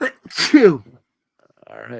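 One loud, close sneeze, followed by a brief exhale and a short spoken remark.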